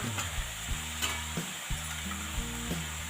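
Spices frying and being stirred in a pan with green chillies for an eggplant and fenugreek curry, a steady soft sizzle with a few brief spoon clinks and scrapes, close and alone.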